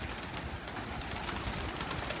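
Pigeons coo softly over a dense, steady background murmur in one short, continuous stretch with no voices.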